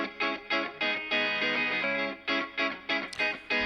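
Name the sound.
clean Fender Stratocaster electric guitar with LA3A-style compression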